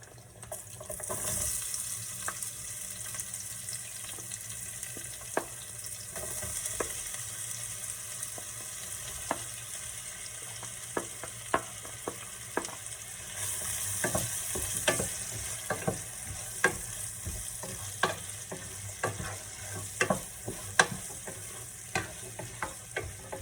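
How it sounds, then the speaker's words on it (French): Chopped onions frying in a pan for a sorrel and peanut butter dish, with a steady close sizzle broken by frequent sharp clicks of stirring against the pan throughout, and no voices. "Ensuite, je vais rajouter l'oignon, les oignons."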